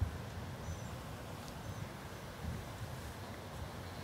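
Wind gusts across an open golf course in a steady low rumble of buffeting air against the microphone, continuous and fairly even, with no voices.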